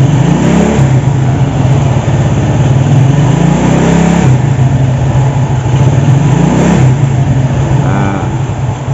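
A Honda Astrea Grand motorcycle engine revs up close and loud in repeated swells, rising and falling about three times over a constant throaty idle, with no voices.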